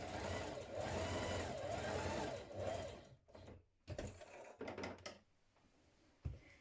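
A sewing machine runs in a steady, fairly loud burst while stitching a blouse's front facing 1 cm from the neck edge, then breaks into a few short separate bursts with quiet gaps.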